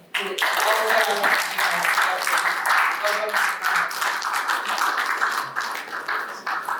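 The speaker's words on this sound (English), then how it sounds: "A round of applause, please." An audience at a young professionals' leadership forum claps for a speaker being called to the stage, a steady patter of hands with voices talking over it.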